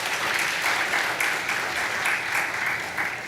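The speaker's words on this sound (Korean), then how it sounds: "박수로 환영해 주시기 바랍니다." A church congregation at a Korean Wednesday evening service claps in welcome for visiting guests, a steady, full round of applause from many hands throughout, with no one speaking over it.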